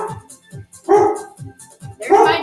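A dog barks repeatedly at home during a low-impact interval workout, several sharp, fairly close barks and yips, two of them louder bursts, interleaved with soft footfall thumps.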